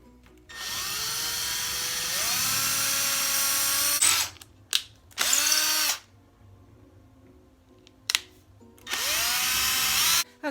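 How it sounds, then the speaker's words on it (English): A power drill bores holes in a jewelry frame, whining up in a long sustained run, then several short bursts and a final run, the motor pitch rising as it spins up each time. "now we have drilled the holes from the front side"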